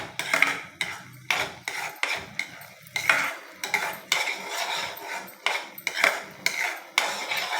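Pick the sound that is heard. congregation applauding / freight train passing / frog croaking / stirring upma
stirring upma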